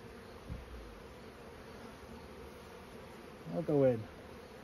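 An angry honeybee swarm hums steadily around a hive outdoors, a faint continuous drone with a brief closer buzz near the end, and someone says a few words.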